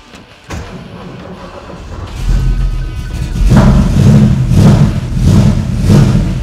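A 1969 Ford Mustang Mach 1 with a built 351 V8 and four-speed cranks and fires, then settles into a loud, lumpy idle broken by three rising revs that swell and fall back, close and without talk.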